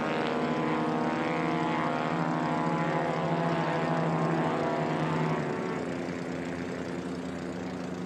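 A Kit Fox light aircraft's propeller engine runs loud and steady at high revs during a STOL drag race heat, a continuous droning roar that eases slightly near the end.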